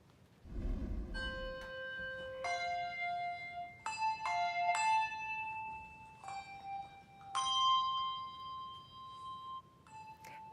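Handbell ensemble playing a holiday tune, a low thump followed by a slow melody of clear ringing struck bells, each note sustaining and overlapping the next, moderately quiet and without voices.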